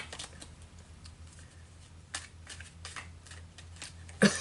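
Tarot cards being shuffled by hand give soft, quiet papery riffles and slides in irregular bursts, ending in a sharper, louder rustle, with no voice.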